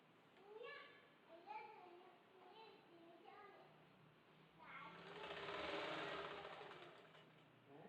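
Sewing machine stitching a homemade reusable fabric face mask, a steady whirring run building up near the end, with a person talking over the earlier part.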